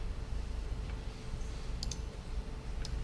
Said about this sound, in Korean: 다운로드에 이런 식으로 있으면 더블 클릭 해주시고요